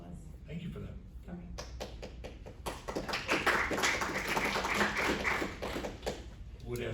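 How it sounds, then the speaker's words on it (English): Audience applause breaks out in a county commissioners court meeting, a scatter of claps at first that swells into dense, steady clapping from the attendees and holds strong throughout. "Would ask those in attendance to please hold your applause."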